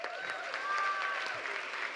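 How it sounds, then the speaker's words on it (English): Live audience applauding a moderator walking onstage at a panel event, steady dense clapping with some crowd noise and a faint voice underneath, sustained evenly for the whole stretch. "Please give her a round of applause."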